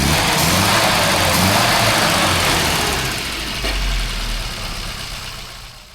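A classic Mini's engine runs loud and close as it heads out on a test drive after tuning. A steady drone eases off partway through, and no one speaks.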